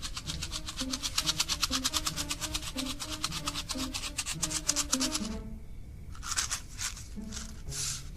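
Matches are struck again and again without catching, each one a quick rasping scrape in a fast, even run, then a short pause and a few more strokes. A tuneful, music-like tone plays faintly underneath.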